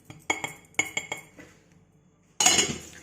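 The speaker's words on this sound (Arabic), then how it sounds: "ونبدأ بقى نقلب التتبيلة بتاعتنا بالشكل اللي انتوا شايفينه ده" A spoon clinks and scrapes against a bowl while spice marinade for shish tawook is stirred, a few sharp close clinks followed by a pause and then a louder scraping rattle.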